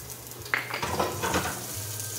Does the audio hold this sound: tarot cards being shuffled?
no